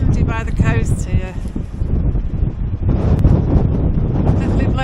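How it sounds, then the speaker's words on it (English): Strong coastal wind buffets the microphone on a beach, a steady loud roar of rumbling gusts running throughout with a person talking over it in places. "Very windy by the coast here."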